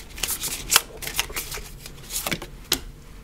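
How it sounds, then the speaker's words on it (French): Playing cards being handled and set down on a tabletop during a card reading: a run of soft, papery slaps and flicks at an uneven pace, close and fairly quiet, with no voices. "Je vais juste mettre une carte sur le 8 de..."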